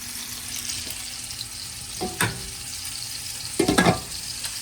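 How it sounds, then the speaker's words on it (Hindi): Koftas frying on one stove burner while onions brown on another: a soft, continuous sizzle with a few sharp utensil clinks and bursts of spattering near the end, and no voices. "मैं इधर कोफ्ते कर रही हूँ, वहाँ पे प्याज ब्राउन कर रही हूँ"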